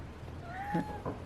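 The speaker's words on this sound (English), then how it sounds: "This is my cat." A pet cat gives a single short, rising-and-falling meow at close range, followed by a brief softer chirp, against a quiet indoor background.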